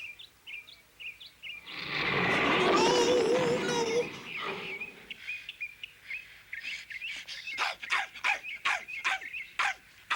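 A small dog barks in short sharp yaps, close and moderately loud, after a burst of louder growling and commotion in a 1983 Toho animated Wizard of Oz scene.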